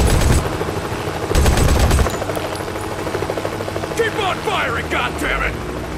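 A helicopter and bursts of automatic gunfire from the mobile shooter Modern Combat 5, with loud volleys of shots at the start and again around the middle over a steady rotor drone, while voices talk over the battle.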